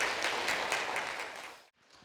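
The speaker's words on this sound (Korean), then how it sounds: "오늘 우리 모델로 너무나 수고해주신 우리 모델북에 박수 한번 치면서" Applause for a makeup model at a Korean-language educators' training session, a moderate steady patter of many hands that fades and cuts off abruptly near the end.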